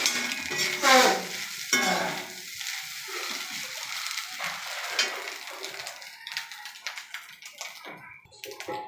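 Fish roe fries in a pan with scattered sizzling and a spatula scraping and tapping against the metal, loud early on and thinning to lighter crackles.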